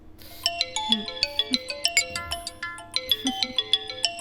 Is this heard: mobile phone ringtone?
yes